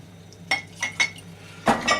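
Cutlery clinking against a bowl while eggs are mixed for toad in the hole batter, a few separate bright taps spread across two seconds, close and fairly quiet.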